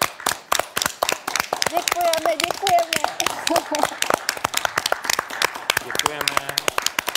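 A studio audience at a Czech talk show claps in rapid, sharp, irregular bursts throughout, loud and close, while a voice speaks over the clapping.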